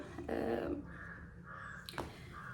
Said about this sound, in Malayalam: കാക്ക വന്നിട്ടുണ്ട്.